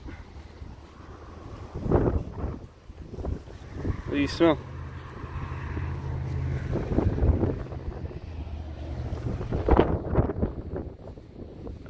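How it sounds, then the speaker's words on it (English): Strong wind buffets the microphone in heavy, rumbling gusts throughout, with a person speaking briefly partway through. "I know it's super windy."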